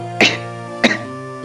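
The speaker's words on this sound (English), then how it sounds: "oh, I had to cough." Two short, sharp coughs, close and loud, about half a second apart over a steady background hum.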